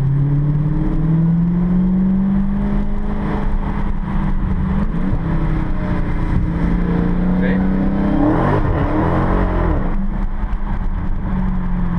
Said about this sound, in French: Voilà ce que ça donne, 707 chevaux V8 propulsion